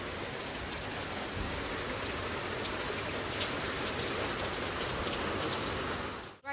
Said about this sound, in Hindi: देखो बारिश बहुत तेज हो चुकी है, पहले से भी ज्यादा।